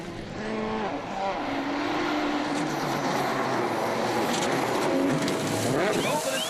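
Ogier's World Rally car at Rally New Zealand overshoots a left-hander, its engine revving hard and shifting pitch as it brakes and powers away, loud and close with a commentator talking over it.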